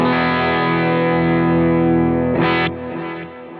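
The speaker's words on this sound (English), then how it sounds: "I can really hear that compression kicking in and really tightening up that sound" A sustained, distorted electric guitar chord rings out evenly and densely, with a short strummed burst before it fades lower.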